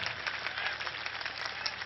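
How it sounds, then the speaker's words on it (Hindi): Crowd clapping at a political rally in India, heard as a steady, fairly faint wash of applause that stays even for under two seconds. "ठोको ताली ठोको ताली ठोको ठोको मत रोको"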